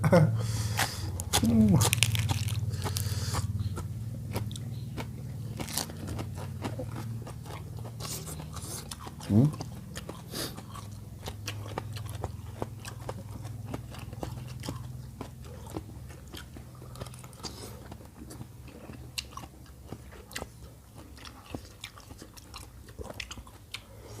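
Spicy Thai grilled-squid papaya salad with fresh raw vegetables is eaten up close, with repeated crunchy bites and wet chewing throughout, and a voice speaking over the eating.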